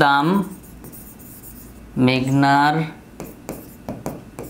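Marker or chalk writing on a classroom board, short scratchy strokes and taps following a teacher's speech, close and clear after the talk.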